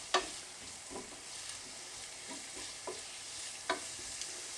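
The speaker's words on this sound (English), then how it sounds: "Give that a bit of a stir around." Ginger, garlic, turmeric and chilli being stirred in a hot pan for a minced beef and potato curry, a soft steady sizzle with several light scraping clacks of the spoon at uneven intervals.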